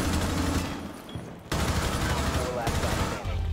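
Rapid bursts of automatic gunfire from the tactical shooter Rainbow Six Siege, loud and dense, with a brief lull before the firing resumes heavily; a voice is faintly present in the mix.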